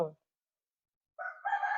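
A rooster crows once, a fairly distant, moderately loud cock-a-doodle-doo rising after a brief pause, at a rural home during morning feeding.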